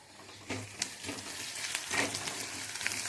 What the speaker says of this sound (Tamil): நல்லா வதங்குது, பொன்னரமாக வருது பாருங்கள்.